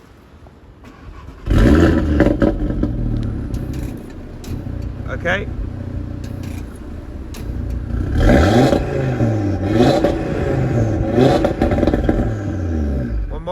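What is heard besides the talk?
Audi TT RS roadster engine starting and revving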